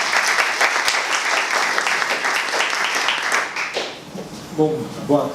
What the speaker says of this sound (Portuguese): Então recebam com uma salva de palmas o professor Ricardo Feliz